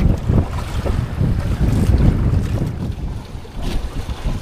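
Strong wind buffets the microphone in continuous low rumbling gusts aboard a small fishing boat at sea, with a hint of water washing nearby and no voices.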